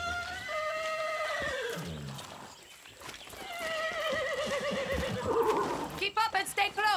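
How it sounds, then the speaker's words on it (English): A horse in Far Cry 6 gives several loud, wavering whinnies during outdoor gameplay, with a few hoof clops near the end and talk mixed in. "Be nice, horse."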